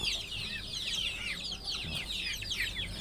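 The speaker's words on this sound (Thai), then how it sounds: "อันนี้ก็จะเป็นไก่สายพันธุ์แท้นะครับไก่ไข่สายพันธุ์แท้ต่างประเทศเรานะครับ" Purebred foreign laying-hen chicks chirp and cluck in a busy chorus, many small high peeps overlapping continuously at close range, with a low background rumble.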